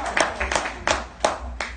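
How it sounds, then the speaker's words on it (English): An audience at a business gathering in Chicago claps in distinct, evenly spaced strokes, about five sharp rhythmic claps ringing out near and fairly loud. "y'all clapping like we've been in business for 10 years"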